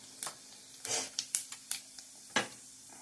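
Cumin seeds drop into hot oil already holding mustard seeds, giving a quiet, sparse run of sharp pops and crackles, about eight distinct spits over a faint background hum.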